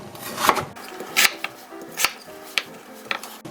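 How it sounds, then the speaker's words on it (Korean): A knife cuts a Korean radish, sliced 2 cm thick, into quarters for kkakdugi kimchi on a cutting board, with about six sharp, close chops at an uneven pace and soft scraping between them. "무를 4등분을 해줍니다."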